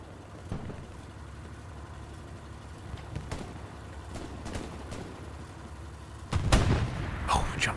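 A Jumbo tank fires its cannon in Hell Let Loose on the Foy battlefield. Several distant, muffled booms sound across the clip, and a louder, closer blast lands near the end.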